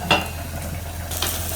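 Onions frying in a pan while a spoon stirs them, two distinct scraping strokes over a steady low sizzle and background hum, close and fairly quiet with no talking.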